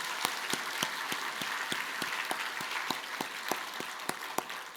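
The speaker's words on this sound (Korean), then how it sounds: "그런 마음으로 박수를 한번 해주시면 고맙겠습니다." Church congregation applauding during a sermon, a sustained even patter of many hands with a few sharper individual claps standing out, moderately loud and without speech.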